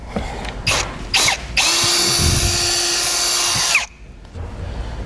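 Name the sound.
power drill drilling through rubber grommet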